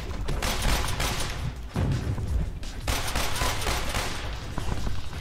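Dense, sustained gunfire in the Spider-Man 3 video game, a loud fusillade of rapid overlapping shots and bursts with booming impacts running throughout, briefly dipping before resuming.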